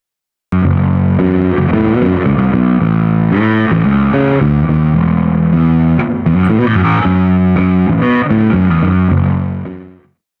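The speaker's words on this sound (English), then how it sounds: "I generally put an overdrive pedal before a fuzz pedal" Heavily distorted bass guitar plays a continuous, gritty riff through an overdrive pedal into a fuzz pedal, thick and loud with a buzzing edge, ringing out at the end.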